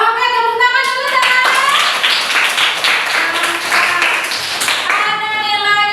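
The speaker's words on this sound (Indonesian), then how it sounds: "tepuk tangan dulu dah" A university classroom of students claps their hands together in a quick, fairly close burst of rhythmic clapping, with voices and a tonal sound in the background around it.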